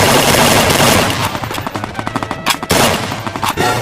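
Rapid bursts of automatic gunfire crackle in the Free Fire mobile shooter game, a dense rattling volley of close shots with brief gaps and sharp pops.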